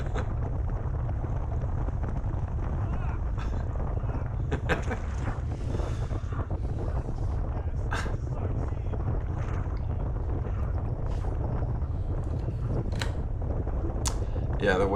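Strong wind buffets the microphone during a fixed-gear criterium bike race on Randall's Island, a constant loud low roar with occasional gusts and faint sharper sounds throughout.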